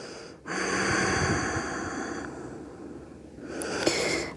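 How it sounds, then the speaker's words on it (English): Steady breathing in yoga child's pose, a close, soft airy inhale and exhale stretching over several seconds over a faint, sustained tonal hum. "just taking a few breaths here."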